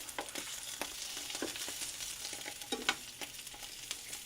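Pork sausages sizzle and fry in a pan with a pan reduction, a steady close hiss broken by scattered sharp crackles and pops throughout.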